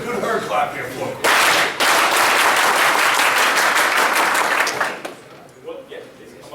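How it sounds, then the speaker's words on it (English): An audience breaks into loud clapping at a HERD 2013 speech event, a dense burst that swells abruptly, sustains for several seconds, then cuts off sharply into quieter murmuring voices. "Let's get a good herd clap here for him."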